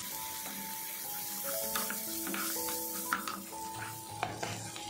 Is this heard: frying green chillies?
yes